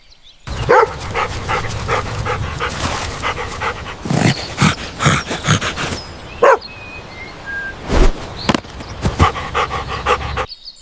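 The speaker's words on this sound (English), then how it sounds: "This is a dog." A toy dog pulled from an unboxing of toy animals gives off a sound effect of loud, rapid panting broken by short barks and yips, repeated in bursts with brief pauses between.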